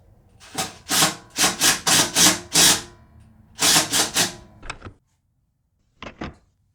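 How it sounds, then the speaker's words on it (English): Screws are driven by hand to fasten cable clamps that hold fuel hoses to a lawnmower frame, a close, rhythmic run of about eight grinding turns, a pause, then a few shorter twists. "I'm just going to use these cable clamps right here to screw the hoses down to the frame"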